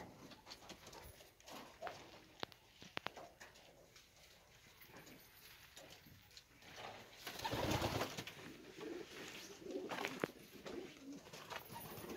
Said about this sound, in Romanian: Avem și porumbei.